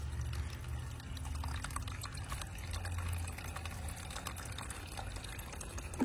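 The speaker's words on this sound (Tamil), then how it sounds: "அந்த மேக்ஸிமம் ப்ளூ லைன் தெரியுதுங்களா, அது வரைக்கும் நம்ம தண்ணி ஊற்றணும்" Water pours steadily into a container up to its maximum fill line, a continuous close trickling and splashing that runs alone without any voices.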